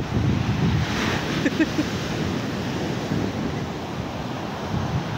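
Sea surf washes continuously on the beachfront at Long Beach, San Vicente, Palawan, a broad roar mixed with wind buffeting the microphone.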